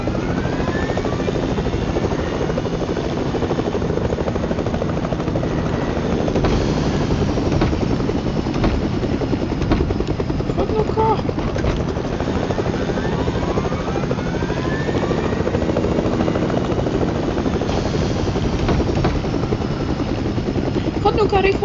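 Helicopter in the video game Fortnite, a steady loud rotor drone with engine whine running throughout, with a player talking over it.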